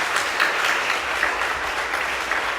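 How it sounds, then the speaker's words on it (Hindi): Audience at a youth healing retreat at an ashram clapping loudly for the Lord, a dense, even wash of many hands that holds steady throughout with no voices. "उन सभी के लिए एक जोरदार ताली प्रभु के लिए हम बजाएं"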